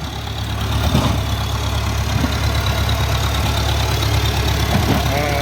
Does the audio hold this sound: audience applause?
no